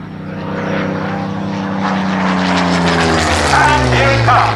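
A Supermarine Mark II Spitfire propeller plane flies past, its engine drone rising in pitch and loudness as it approaches, with an announcer's voice heard over it.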